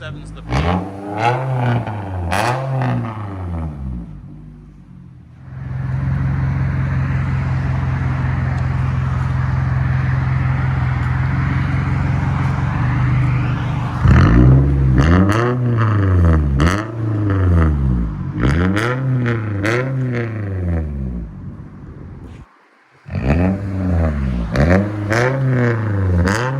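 Straight-piped 2011 Toyota Camry LE with a 2 1/4-inch muffler delete revving hard up close: repeated rising and falling revs, a long sustained high-rpm hold, then more quick blips, loud and raw.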